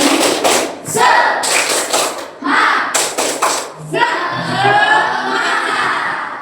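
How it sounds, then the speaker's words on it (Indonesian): A standing class claps in quick rhythmic bursts, sharp sets of claps separated by short pauses, with children chanting and shouting along in a lively room. "Tepuk semangat."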